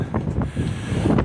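Wind buffets the microphone outdoors at the Madison rail yard in Gary, Indiana, on a cold day, a continuous loud rumbling gust with no voices.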